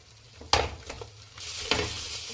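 Eggs fry in a pan for egg rice, a close sizzling hiss broken by a few sharp spatula scrapes, with the sizzle swelling louder toward the end.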